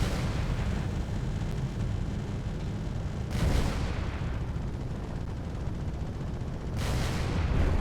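Ship weapons firing in the Space Engineers game: heavy, booming blasts over a dense rumbling roar, with two sharp explosive bursts a few seconds apart, loud and without talk.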